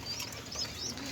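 Pet pigeons coo softly at a fairly low level in a short, continuous murmur, with faint chirps above it and no talking.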